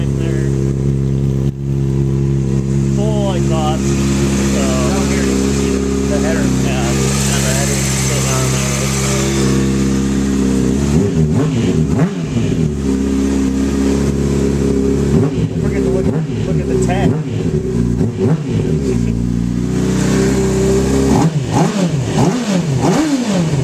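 Honda CBR600 motorcycle with an aftermarket exhaust, its engine droning steadily, then revving in several sharp bursts near the mic, with voices talking over it.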